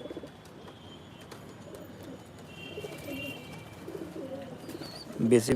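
Pigeons coo softly at dusk as they are being shut into their cage for the night, a quiet low murmur under faint ambient noise, ending with a brief louder knock.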